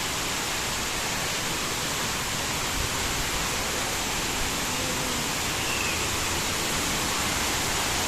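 Mag-Aso Falls pouring in a steady, dense broadband roar, close and constant throughout with no breaks or voices.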